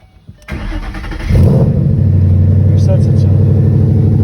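A Mustang GT engine cranks and catches about half a second in, revs up louder, then settles into a steady, close, heavy idle rumble.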